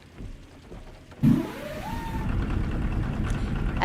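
A heavy truck engine in American Truck Simulator cranks with a sharp starter burst, then catches and settles into a steady low diesel idle rumble that continues alone, close and moderately loud.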